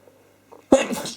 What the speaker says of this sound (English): Thought I was gonna sneeze, and then I didn't, and then I did.